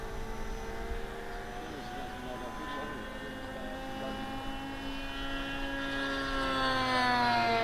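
A Seagull Swift model aircraft flies in to land, its engine a steady droning whine with a slowly falling, then rising pitch that grows louder toward the end, heard over breezy outdoor background.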